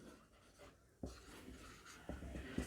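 Pen or marker writing on a board, with soft scratchy strokes and a few sharper taps, quiet and close in a classroom setting, no talking.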